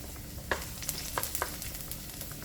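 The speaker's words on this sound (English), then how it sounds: "So I heat my oil and I'm going to start out with my garlic" Garlic fries in hot oil in a pan for a Jamaican salt mackerel rundown, giving a soft, steady sizzle under a few sharp clicks and taps of stirring, fairly quiet and close.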